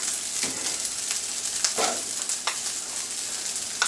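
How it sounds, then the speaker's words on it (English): Moist cooked rice, fresh from the rice cooker, being stir-fried in a pan for pineapple fried rice, a continuous light sizzle broken by several short scraping and tossing sounds. "Right now it's very moist from the rice cooker. So we're just going to fry that up a little bit."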